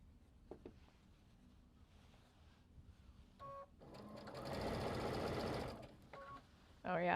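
Sewing machine stitching down a fabric seam, a steady whirring burst of about two seconds in the middle, with brief shorter runs before and after amid quiet handling noise.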